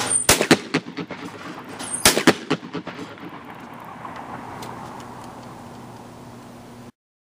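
Shotgun blasts at an outdoor shooting range: two sharp, loud bursts of rapid cracks early on, followed by a fading echo and low background rumble.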